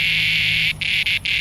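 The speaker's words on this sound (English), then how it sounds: "It's a cicada." A cicada buzzing close and loud on a farmstead, a steady shrill drone that breaks into a few short stuttering pulses near the end.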